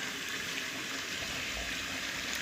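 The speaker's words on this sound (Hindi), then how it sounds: "फिर इसके बाद मैं उसमें पानी ऐड करूँगी" Water pours steadily into a cooking pot of frying rice and chicken for chicken pulao, a continuous close hiss and splash with no talking.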